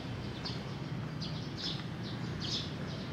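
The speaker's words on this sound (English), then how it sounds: "You guys hear the birds chirping?" Faint, repeated high chirps from birds at a seaside fisherman's wharf in Nagasaki over a steady low background hum, several short calls spaced apart.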